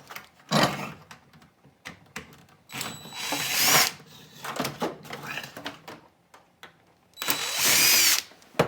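A power drill backs screws out of the rear of a VCR being scrapped: two loud whirring bursts and a shorter one, with rattles and clicks of handling between, close by.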